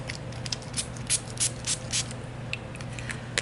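Kula makeup setting spray with green tea and aloe, pumped in a series of short, close hissing spritzes, about eight quick bursts in a steady rhythm over a constant background hum.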